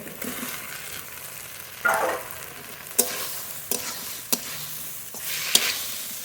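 Cauliflower and potato, already fried, sizzle in a cooked-down spice paste in a pan of oil while a spatula stirs them, giving a steady hiss broken by five sharp scraping clacks, close by and with no talking.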